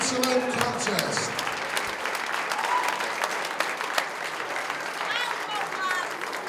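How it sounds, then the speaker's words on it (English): Crowd applauding both fighters after a three-round fight at a FightStar Championship event, sustained dense clapping filling the hall, steady and moderately loud with occasional sharper claps and a few voices underneath. "a round of applause for both fighters"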